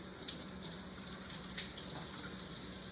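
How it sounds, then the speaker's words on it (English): Tap water runs from a kitchen faucet while fruit is rinsed underneath, a soft steady splash with small shifts in the flow, fairly quiet and with no talking. "turn the water on, stick your fruit underneath"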